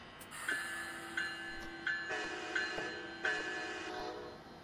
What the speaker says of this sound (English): I believe it's the original horn and bell from the ALP-45 locomotive.